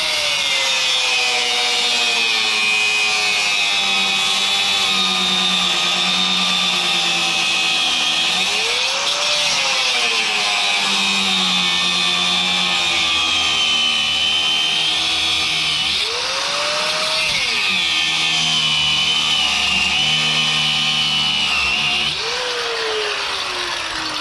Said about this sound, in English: we're going to take our grind wheel, or what's left of my grind wheel, definitely need a new one,